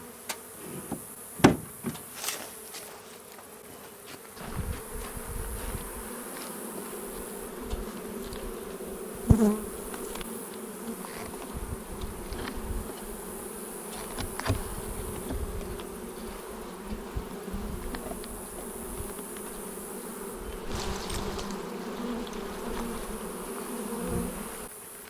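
A dense swarm of honeybees hums steadily around capped honey frames being pulled from a hive, a constant close buzz with individual bees whizzing past, punctuated by occasional knocks and thumps of frames being handled.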